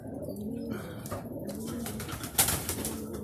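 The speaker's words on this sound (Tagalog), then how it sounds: "Ayan na yung mga ibon natin." Racing pigeons returning from a training release coo softly in low, rolling phrases close by, with a few chirps and a brief rustle of wings partway through.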